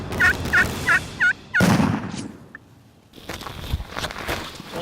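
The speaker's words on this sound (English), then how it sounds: "We hear a gobble, and Steve has the decoy" Wild turkey gobbler calling near a hunting decoy setup, a quick run of five loud, rattling gobbles in rapid rhythm, then a rustle and quieter movement noises outdoors.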